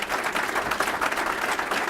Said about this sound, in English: Give another round of applause for Lee, please